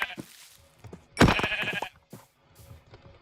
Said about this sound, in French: le mouton marron, je te laisse en vie.